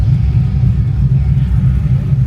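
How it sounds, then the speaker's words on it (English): 1980 Chevrolet K5 truck at an autocross track, a steady low engine rumble idling nearby without any clear revving climb. "It's 1980 K5, and we're gonna go on the autocross here."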